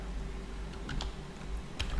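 Quick clatter of typing on a computer keyboard during a Python and MongoDB coding session, with irregular clusters of key taps, fairly close and alone with no voices.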